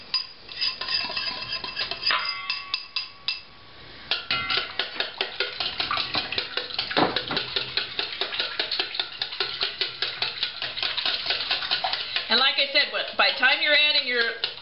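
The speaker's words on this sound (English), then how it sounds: "Then we're going to kind of mix these eggs." Eggs being mixed in a bowl for corn bread, a quick rhythmic clatter of utensil against bowl that keeps going, with someone speaking over it.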